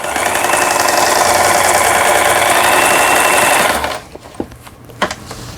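A Lion Indigo 14 home sewing machine runs a zigzag stitch, a loud, steady, rapid mechanical whir for about four seconds that then stops, leaving a few small clicks and taps.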